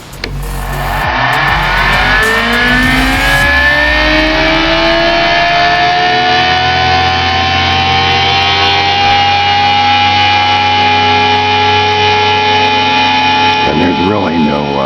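An experimental zero-force electric motor spins up and runs loud and steady, its rising whine settling into a sustained hum with layered tones, close to the listener, and a brief rattle near the end.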